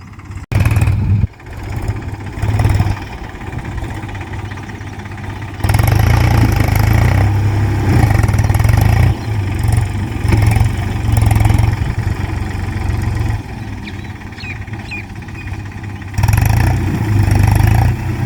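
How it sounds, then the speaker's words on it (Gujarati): A tractor engine runs steadily nearby while fertilizer is spread across a village field ahead of soybean sowing, a loud continuous rumble that swells and eases at intervals with no talk over it. "ટ્રેક્ટર આવ્યું એ જો ફેદે ખાતર"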